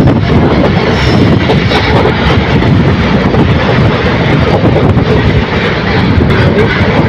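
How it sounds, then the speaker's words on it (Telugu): A goods train rumbles steadily close by, overtaking alongside a passenger train, a dense continuous roar of wheels and engine with no breaks, loud throughout. "గూడ్స్ ట్రైన్ అయితే ఓవర్టేక్ చేస్తుంది"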